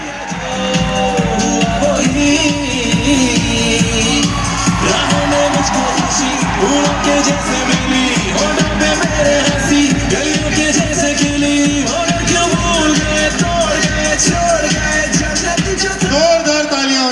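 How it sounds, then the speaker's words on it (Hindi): A large crowd at the Forever Success 2026 event in Delhi claps and cheers loudly and continuously, with whoops and shuffling in the mix and a voice talking over the din. "जोरदार तालियां हो जाए।"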